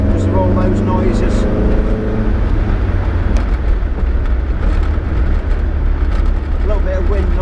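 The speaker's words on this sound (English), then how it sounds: "A little bit of wind noise, road noise, it's all fine." Low, steady road rumble and wind noise fill the cabin of a moving Porsche 914, a continuous broadband roar that runs the whole time with no break.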